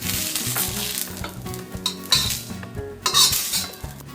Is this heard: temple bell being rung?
no